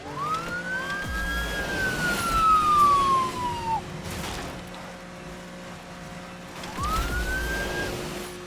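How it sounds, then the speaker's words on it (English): Police sirens in the racing video game Asphalt Legends wail upward and sweep down in a long clear cycle, then start rising again, over a steady engine hum. "it would be cool if you could keep the sirens going"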